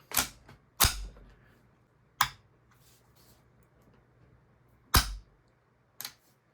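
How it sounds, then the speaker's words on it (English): A Savage 64F .22 LR semi-auto rifle has its trigger pulled on a snap cap to decock the bolt, giving several sharp, isolated metallic snaps and clacks spaced irregularly, close and crisp against near silence. "pull the trigger, and now your bolt is decocked."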